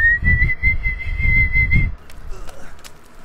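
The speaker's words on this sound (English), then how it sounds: "Some kind of monkey whistle?" A single sustained, steady whistle tone sounds in a video game for about two seconds over low rumbling thumps, then cuts off, leaving faint clicks and scattered noises.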